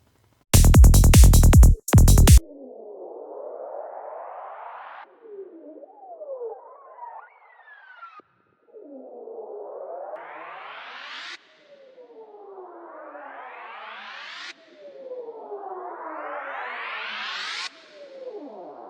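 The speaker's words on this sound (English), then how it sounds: "Let's just try maybe cymbal crash. Once again, right click and reverse." Reversed cymbal crashes resampled into granular risers in the Serum 2 synth, a short loud burst followed by several repeated sweeping rises that swell upward and cut off, heard alone without any talking.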